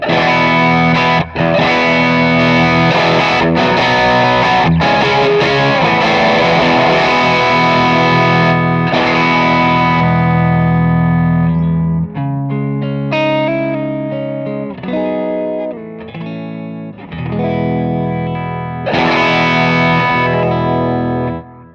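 Electric guitar through a Plexi amp model on a Line 6 Helix plays loud, continuous chords and riffs with a gritty, overdriven tone, dropping briefly to sparser notes before building back up.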